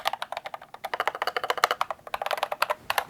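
Steady, rapid typing on an Akko 5075 mechanical keyboard resting on a lap, crisp close keystrokes clattering in quick irregular bursts with no talking.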